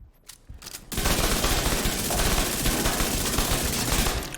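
Backfire SMG firing in The Division 2: after a brief quiet start, a loud, dense stream of rapid automatic gunfire runs without a break to the end, with no talking.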